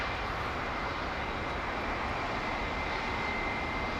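A British Airways Boeing 737 MAX jet flies over near Heathrow, producing a steady, loud engine roar with a thin high whine throughout.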